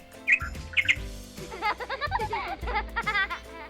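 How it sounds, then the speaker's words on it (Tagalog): Several small birds chirp in short, bright bursts close by, with quick repeated twittering calls that come in clusters against a quiet background. "Madunggan nimo ang huni-huni sa mga langgam."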